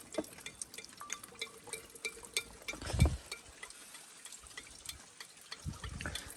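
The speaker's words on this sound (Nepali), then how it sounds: "पानी थाप्नु पऱ्यो अब यो रेडबुलको क्यानमा" Spring water drips into an empty Red Bull can outdoors, a run of small, irregular plinking drops with a louder splash near the middle, heard alone without talk.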